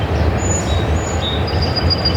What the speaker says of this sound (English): There's a nice train going across over there in Rochester.